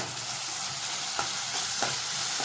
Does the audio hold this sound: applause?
no